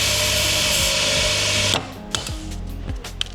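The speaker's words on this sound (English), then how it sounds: "We find the easiest way is to grind the head off the pin here and punch it through." A power grinder cuts the head off a steel hinge pin on a small barn door, a loud, steady grinding whine for nearly two seconds that cuts off abruptly, followed by a few sharp metallic taps and clinks.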